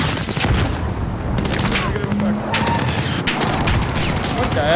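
Rifle gunfire in the Call of Duty Modern Warfare Farah mission, with loud, close bursts of rapid shots and scattered single cracks, mixed with explosions and clattering mechanisms, with voices speaking in the midst of the firing.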